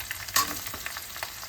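Potatoes tipped into a pan of onions fried to a reddish brown, then stirred, for a fish curry with aubergine; a brief scrape and clatter over a soft steady sizzle, with no talking.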